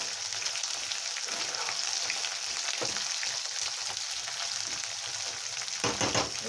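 Capsicum stirred and fried in a pan for chili paneer: a soft, steady sizzle broken by scattered spatula scrapes, louder in a brief burst toward the end, no talking.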